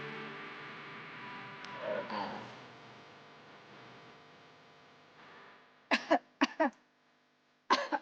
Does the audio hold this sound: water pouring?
no